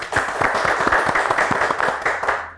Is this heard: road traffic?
no